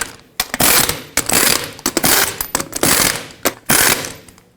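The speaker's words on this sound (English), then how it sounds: "Start on all 6 of your lug nuts, bottom them out in a cross pattern, and also in a cross pattern, torque them to 140 foot-pounds." A torque wrench ratchets on the six wheel lug nuts of a 2008-2017 Buick Enclave, tightened in a cross pattern to 140 foot-pounds. Several loud, sharp bursts of clicking are separated by short pauses.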